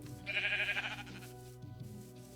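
A sheep in the video game Minecraft bleats once in a clear, wavering call, followed by a shorter, quieter bleat.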